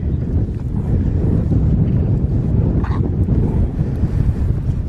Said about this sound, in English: The wind is still as windy as ever over here.